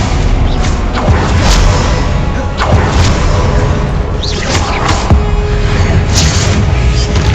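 Spells such as Stupefy and Confringo are cast in Hogwarts Legacy amid loud continuous booms, whooshes and impacts, a dense layered barrage with brief crackling bursts throughout.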